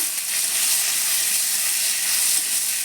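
Tomatoes dropped into hot oil with black cumin sizzle in a steady, loud, bright hiss that holds constant throughout, with no one speaking.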